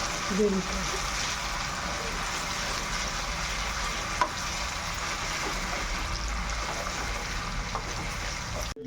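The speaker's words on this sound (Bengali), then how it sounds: "দিয়ে দিচ্ছি আলুগুলোকে একটুখানি কষিয়ে নেবো" Potatoes sauté in a pan with ginger paste, a dense continuous close sizzle with occasional stirring scrapes and a faint tap midway, under a soft voice.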